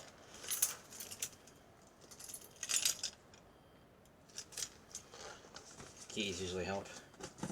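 Keys jingle in short bursts as someone fumbles at a box lid, metallic clinks scattered between quieter rustling, with a brief voice near the end.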